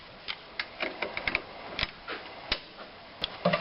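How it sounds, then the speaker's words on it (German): Control arm bolts on a VW Passat being tightened to 35 newton metres during a rear engine mount job, heard as a loose series of sharp metallic clicks and ratcheting ticks at close range, with no talk. "Die Schrauben am Querlenker werden mit 35 Newtonmeter angeknallt"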